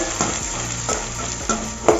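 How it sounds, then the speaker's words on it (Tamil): Onions, tomato and green chillies sauté in a hot pan for pani puri masala, with a steady close sizzle broken by a few stirring scrapes of a spoon against the pan. "இது போட்டு முதல்ல வணக்கிக்கலாங்க"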